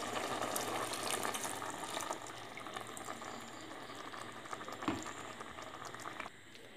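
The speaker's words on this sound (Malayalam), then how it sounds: "ഇതിലേക്ക് നമുക്ക് ഒന്നാം പാല് ചേർത്ത് കൊടുക്കാം" A pot of kumbalanga olan, ash gourd simmering as first coconut milk is poured in, gives a quiet, steady bubbling and fizzing with a few soft splashes.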